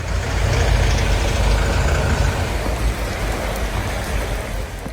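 A midnight hailstorm in Gyumri, Armenia pelts surfaces in a dense, continuous, loud patter with a low rumbling undertone, heard close and without any talking.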